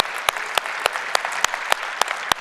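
Audience applause at a keynote event, steady broadband clapping from a large crowd with distinct louder claps standing out at regular intervals, sustained and without speech.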